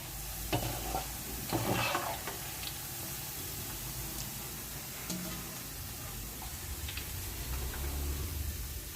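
Boondi frying in hot oil in a pan for sugar boondi, a soft steady sizzle with occasional scraping stirs and light ticks, fairly quiet and continuous with no talking.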